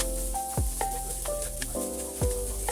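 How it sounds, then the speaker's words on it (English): Shrimp fried rice with egg stir-fried in a pan, a steady sizzle with sharp scraping clanks of a turner against the metal every half second or so, close up and alone. "Then add in the rice. Stir fry the rice."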